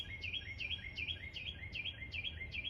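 Birds chirp outdoors on a sunny day, a bright repeating call sounding about every third of a second, steady and moderately close over a low outdoor rumble, with no talking.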